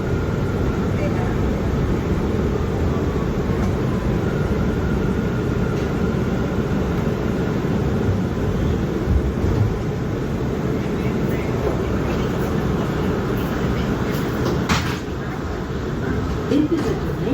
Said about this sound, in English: This is a Jamaica Center-bound J train.